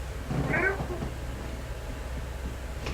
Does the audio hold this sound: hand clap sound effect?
no